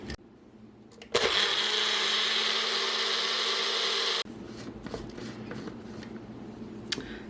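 A blender whirs loudly for about three seconds, mixing a lemon juice salad dressing, then cuts off abruptly, leaving faint kitchen clatter and small knocks.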